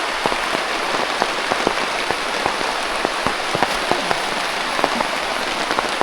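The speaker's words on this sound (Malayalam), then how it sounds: "പേരുമഴ" Heavy monsoon rain pours steadily over forest in Parambikulam Tiger Reserve, a dense, even hiss with scattered louder drops pattering on nearby surfaces throughout.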